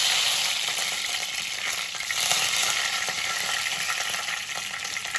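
Fresh curry leaves hit hot oil for a home-made chicken roast, giving a loud, continuous crackling sizzle of frying that holds steady throughout with no talking.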